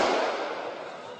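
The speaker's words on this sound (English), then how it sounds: "Gunfire echoing around the aisles of the Westgate Centre's main supermarket." Gunfire echoing through the aisles of a supermarket in Kenya's Westgate Centre during an armed attack: a single loud crack followed by a long, decaying reverberant wash.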